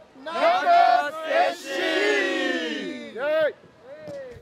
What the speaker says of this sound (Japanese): 桜咲き誇る葛飾区奥戸総合スポーツセンターに南葛を応援する声援が戻ってきました